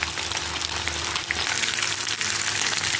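Bluefish (çinekop) frying in a pan, a steady dense crackling sizzle of hot oil running throughout, close and fairly loud, with no talk.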